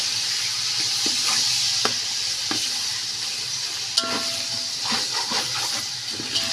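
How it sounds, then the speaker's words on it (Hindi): Chicken and spices frying in a pan for a chicken and vegetable rice dish, loud continuous sizzling with scraping stirs and occasional clinks of a utensil against the pan. "चिकन के साथ इस मसाले को थोड़ा सा हम भूनेंगे"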